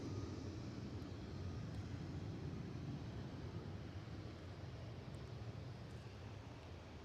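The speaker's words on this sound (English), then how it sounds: "Right, WestJet on their way out to Halifax." A WestJet airliner departs Edinburgh Airport for Halifax, its engines a faint, steady low rumble carried on a broad, even roar that holds throughout, mixed with some wind noise.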